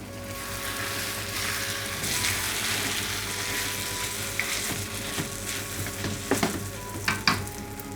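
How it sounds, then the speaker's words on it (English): Lamb pieces sear in a hot pan with spices for a lamb karahi, giving a loud, continuous sizzle with sharper crackles and spatters toward the end as the meat is stirred. "So we're just kind of sealing the meat at this stage."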